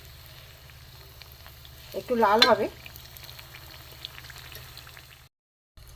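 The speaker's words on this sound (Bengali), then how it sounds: "আমি সাদা তেলেই ভাজছি, অনেকে সরষের তেলে ভাজে, আমি সাদা তেলেই ভাজছি" Arse pitha fries in white vegetable oil, giving a steady soft sizzle with a louder bubbling burst around the middle as a piece is moved or added. A voice briefly speaks.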